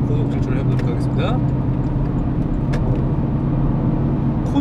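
A car is driven at high speed while towing a caravan, giving a steady low road and engine drone with constant tyre rumble, and someone talks over it throughout.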